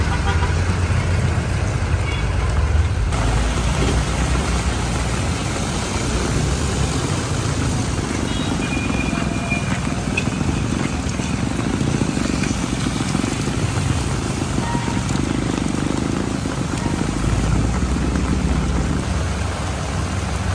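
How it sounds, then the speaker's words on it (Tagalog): Heavy rain pours steadily onto a flooding street in Malabon, a dense continuous wash of drops with the low rumble of passing vehicles underneath, loud and unbroken throughout. "nagulat ako paglabas ko ngayong alas 9 ay sobrang lakas na pala ng ulan"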